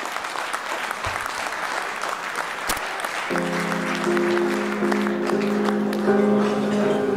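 Wedding guests applaud the couple's first tango, dense sustained clapping that carries on as music with held tones comes in underneath.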